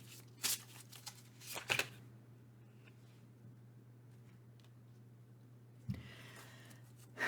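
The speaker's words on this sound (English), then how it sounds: "I'll just shuffle for one more." Oracle cards being shuffled by hand in a few quick riffling bursts near the start and again toward the end, separated by quiet stretches over a steady low hum.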